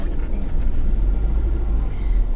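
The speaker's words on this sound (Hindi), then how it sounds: "सबसे पहले हम गाड़ी बैक करेंगे" A car reverses out on a street, its engine a steady low mid-range drone close by, with no talk over it.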